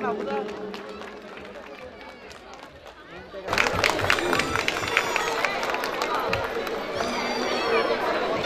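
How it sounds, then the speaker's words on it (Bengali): A crowd at an outdoor picnic event bursts into dense, sustained applause partway through, after a stretch of murmuring chatter, and the clapping carries on to the end. "করতালির মাধ্যমে অনুষ্ঠানে উষ্ণতা ছড়িয়ে দিই"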